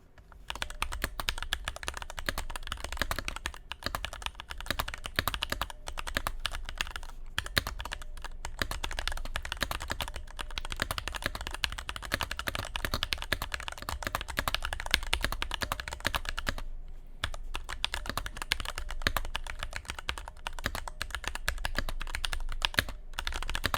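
Steady, fast typing on a Gamakay TK75 pre-built mechanical keyboard, close and continuous for over twenty seconds with a brief pause partway through.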